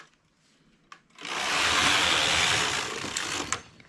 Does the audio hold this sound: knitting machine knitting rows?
yes